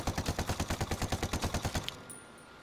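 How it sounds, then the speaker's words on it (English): Rapid automatic gunfire in the video game Ghost Recon Wildlands, a steady burst of about twenty evenly spaced shots that stops abruptly and leaves quiet. "Check out the bullet climb in this."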